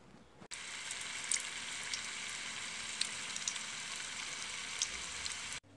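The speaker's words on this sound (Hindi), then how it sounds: "अभी फ्राई करने वाली हूँ" Shami kebabs fry in hot oil with a steady, dense sizzle that starts abruptly and holds evenly, sprinkled with a few sharp pops and crackles, then cuts off cleanly at the end.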